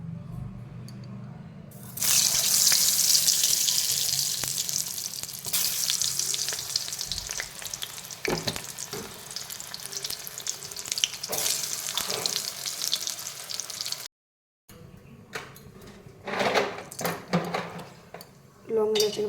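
Pointed gourd pieces coated with salt and turmeric frying in oil, a loud close sizzle that bursts in after a quiet start and crackles on with stirring scrapes, a brief gap, and a voice speaking.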